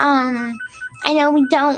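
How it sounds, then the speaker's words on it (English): A telephone rings briefly with a faint electronic tone between spoken phrases, sitting low beneath a nearby voice. "That's the phone ringing there."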